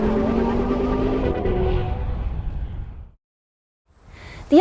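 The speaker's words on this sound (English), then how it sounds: "slip the transmission into S, and it'll open up the exhaust more, giving it a throatier noise." Audi RS Q3 (2013) with the transmission in S mode and the exhaust opened up, a steady throaty engine drone that fades out to silence partway through, then another vehicle sound rises sharply near the end.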